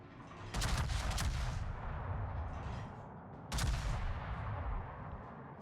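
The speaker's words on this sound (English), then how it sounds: "Imagine being on the ship just seeing these shells fly at you." Naval shells from World of Warships ships fire in two heavy booming salvos a few seconds apart, loud and close, each with a long rumbling tail.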